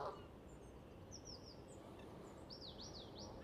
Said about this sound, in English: There's the geese as well coming, being inquisitive.